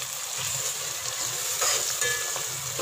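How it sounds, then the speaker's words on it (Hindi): Spices with turmeric frying in a pan for a bhindi dish, a dense continuous sizzle with occasional scraping stirs, close and fairly loud throughout. "मसाले को अच्छे से हम भूनेंगे।"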